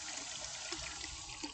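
Running water flows steadily from a tap or fountain, a continuous splashing trickle at close range, fairly loud and alone, with no voices.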